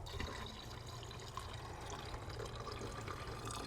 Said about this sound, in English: so I will top the coolant off